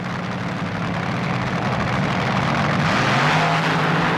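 Drag racing cars at a 1980 NHRA Springnationals race start, heard as a loud, continuous engine roar that swells and shifts pitch near the end, with no voices.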